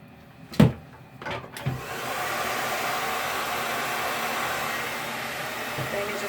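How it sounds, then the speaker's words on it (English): A hair dryer switches on after a few clicks and blows with a steady, loud whooshing roar. "take your blow dryer to dry the tracks"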